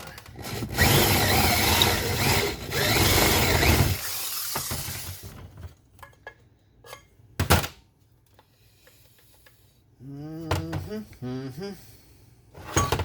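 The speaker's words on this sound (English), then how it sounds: "let me drill it a little more" A power drill with a step bit grinds through the metal of a chainsaw muffler, a vintage Jonsereds 751, in a loud burst for a few seconds, then stops, followed by clicks, a clatter and a brief voice.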